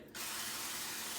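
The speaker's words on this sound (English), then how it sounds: "I'm gonna spray" Cooking spray hissing steadily from a can onto a bread pan, one close, continuous spray that starts abruptly.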